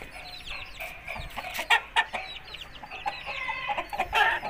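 Aseel hen clucking in a series of short, irregular calls, fairly close and moderately loud, with no one speaking.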